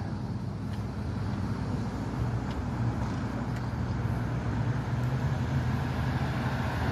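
A car passing on a road at night, a low, steady rumble of tyres and engine that holds at a moderate distance throughout, with no voices.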